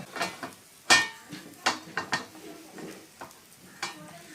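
A metal grill plate is set down on an indoor gas grill used for oil-free barbecue, producing a few sharp, close metallic clanks and scrapes spaced irregularly amid quieter rattling.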